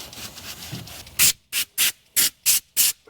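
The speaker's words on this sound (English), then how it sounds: "We can even rub, just get some of this dirt out." Dirt being rubbed off around the fuel pump of a 2002-2007 Jeep Liberty: a brief scuffing rumble, then six quick, regular rubbing strokes, loud and close, with short gaps between them.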